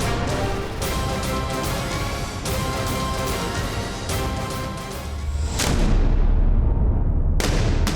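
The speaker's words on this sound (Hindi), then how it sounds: "ये धमाका अजरबैजान के तेल भंडार पर हुआ है" A war attack on an Azerbaijan oil depot sets off loud, sustained blasting and crackling. A heavier roaring surge comes near the end, then the sound cuts off abruptly before one final burst. Nobody speaks.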